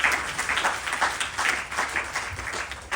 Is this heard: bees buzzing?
no